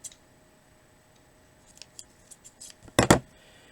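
Scissors snip through craft ribbon or string, a few faint, sparse clicks followed by two louder, close cuts near the end in a quiet room.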